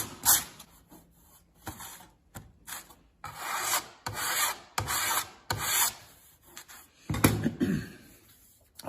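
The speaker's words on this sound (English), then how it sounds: "It has a little burr, so I have a file." A metal file strokes a burr off a transmission plate for a shift kit install, giving a run of close, rhythmic rasping scrapes separated by short pauses.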